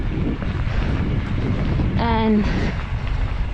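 Wind blowing at the rocky coast of Cabo Tiñoso, a steady loud rumble buffeting the microphone while someone speaks briefly.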